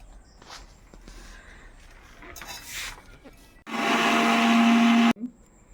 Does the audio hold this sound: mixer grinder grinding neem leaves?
yes